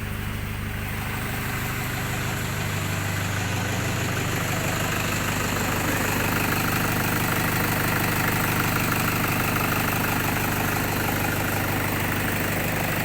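A Toyota Tiger pickup fitted with a turbo timer and a remote-start box idles steadily with the key off, a close, even engine drone with a low rumble that holds unchanged throughout, with no talking.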